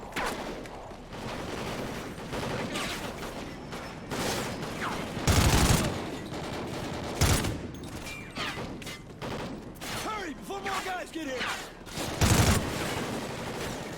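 Rapid video game gunfire fills the scene, bursts of shots with several loud, sharp blasts standing out, plus clicks and metallic mechanism sounds between volleys, all close and busy.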